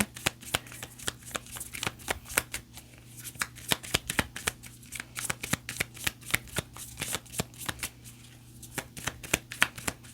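Flower-language cards are shuffled by hand, a quiet, close, steady run of crisp riffling snaps and flutters that repeats for about ten seconds.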